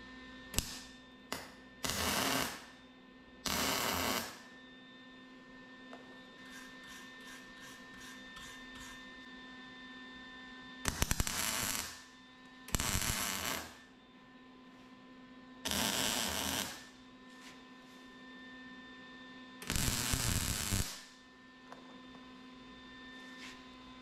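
Welder arcing in several separate bursts as it fills V grooves on a steel motorcycle camera mount, each run of crackling buzz lasting about a second or two, over a steady electrical hum in a workshop.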